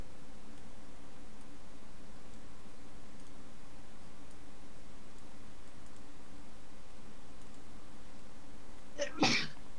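A single short sneeze bursts out near the end, after a long stretch of quiet room tone with faint ticking.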